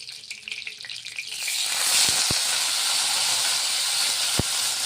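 Onions dropped into hot oil already seasoned with cumin, bursting into a loud, steady, close sizzle that settles into a continuous hiss, with a few sharp clinks from a utensil.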